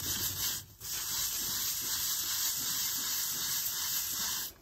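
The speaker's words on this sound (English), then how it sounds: "now we're just gonna rub it clean, wash off the pink stuff" Steady abrasive rubbing as a glass stovetop is scrubbed with gritty Pink Stuff cleaning paste to lift burnt-on food, a close, continuous hissing scour with one short pause early on.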